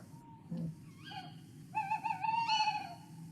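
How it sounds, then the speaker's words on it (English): A tawny owl calls with tonal, wavering hoots, one short note early and then a longer quavering call that rises and holds, faint and fairly distant over quiet background hiss. "there's that really iconic owl sound"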